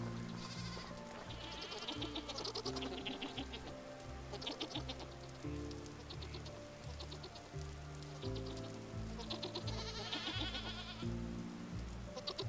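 Goats bleating in the survival video game Vintage Story, a herd of farm goats calling repeatedly in overlapping cries over a steady game ambience, loud and continuous throughout.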